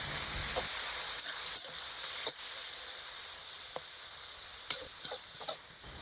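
Minced pork sizzles and hisses steadily in a hot pan while being fried for roasted chili paste, with occasional scrapes and taps of a stirring utensil against the pan and no talking.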